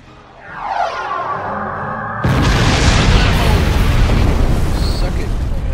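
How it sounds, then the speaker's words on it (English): A spaceship torpedo launches with a rising whine, then detonates on a direct hit in a loud, sustained roaring explosion that fills the rest of the scene and rumbles on steadily. "Alright, fire! Torpedo away."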